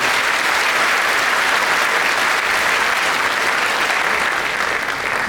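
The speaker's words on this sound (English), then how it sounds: "So let's have a round of applause for Colden." Sustained applause from a graduation ceremony audience, a dense even wash of many hands clapping that holds steady for several seconds, broad and fairly loud, with no voices standing out.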